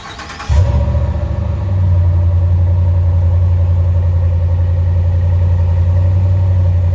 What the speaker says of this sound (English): here's the cold start up of a 2017 Dodge Ram,